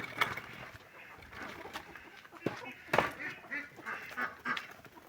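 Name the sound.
ducks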